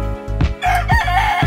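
A gamefarm rooster crows loud and close, a long strained cock-a-doodle-doo call with no talk over it.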